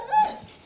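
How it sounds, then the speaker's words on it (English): A two-month-old Pit Bull and Spitz crossbreed puppy lets out a single short, high whimper, close and fairly clear. "We have a puppy here."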